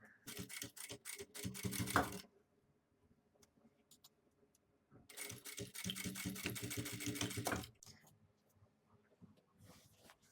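A sewing machine stitching satin fabric for a fabric headband runs in two loud, rapid mechanical bursts, each about two to three seconds long, separated by near silence, close to the listener.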